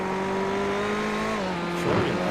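Steady, droning engine note of a Porsche race car at Le Mans, holding a sustained tone that drops slightly in pitch before a brief louder surge at the end.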